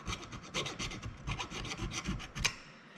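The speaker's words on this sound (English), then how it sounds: "I'm just grabbing a little file to clean up just this little burr" A small metal file rasps a burr off a motorcycle part in quick, close, rhythmic strokes, steady and fairly quiet, with no talking.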